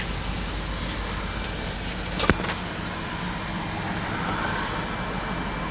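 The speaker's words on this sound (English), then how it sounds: "Now there's traffic." Steady road traffic noise around a car pulling out at a corner, a continuous broadband rumble with one brief louder whoosh partway through as a vehicle passes close by.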